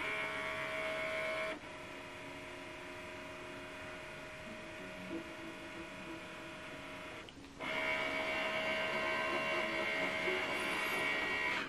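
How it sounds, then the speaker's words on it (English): Canon TS9155 inkjet printer aligning its print head: a steady mechanical whir with humming tones that shifts level twice as the carriage moves, close and fairly quiet, with no speech. "Here we go, it's right now aligning the print head."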